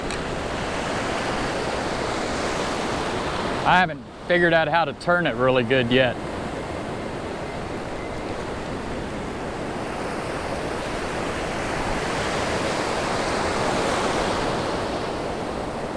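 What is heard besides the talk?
ocean waves breaking on the beach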